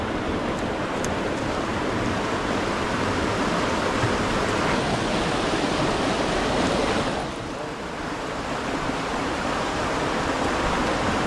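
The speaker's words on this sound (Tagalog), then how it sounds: "Malakas yung tubig." Strong floodwater rushes past in a loud, unbroken roar of churning water, dipping briefly before surging again, with no voices over it.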